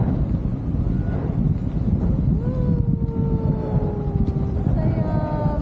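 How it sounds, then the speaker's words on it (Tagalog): Steady, loud wind rush buffets the microphone while parasailing over the sea at Boracay Island, with a motor hum underneath and faint tonal whines gliding across the clip. "Hangin lang naman yan."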